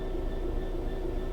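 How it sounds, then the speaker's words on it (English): A train starting to move in Train Sim World 3, a steady low rumble with a faint tonal hum, continuous and even throughout. "Moving a train. We finally get to actually move one."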